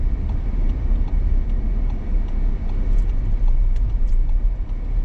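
A car drives slowly along a snowy road, a steady low engine rumble and tyre roar close by with faint crunching, continuous and unbroken, no talk over it.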